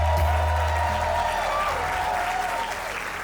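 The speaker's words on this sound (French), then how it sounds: "je voudrais qu'on fasse un tonnerre d'applaudissements pour Aubrey et Laïla pour ce magnifique événement" Wedding guests applaud Aubrey and Leila in a sustained, dense burst of clapping that stays loud and steady throughout, with a low hum underneath and no speech over it.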